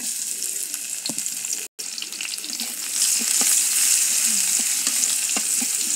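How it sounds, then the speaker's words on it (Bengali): Onion and garlic fry in hot oil in a pan, a loud, close, continuous sizzle that briefly drops out, then swells louder as the pieces are stirred. "এখন আমি পেঁয়াজ রসুনগুলো দিয়ে দিব।"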